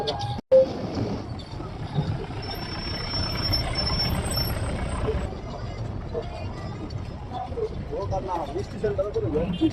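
Trucks and buses rumble near Malda Town railway station, a steady heavy engine drone with an air-brake hiss, voices mixed in throughout.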